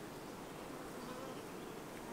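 Honey bees buzz around a hive while a colony is being split, a steady low droning hum that stays even and unbroken throughout.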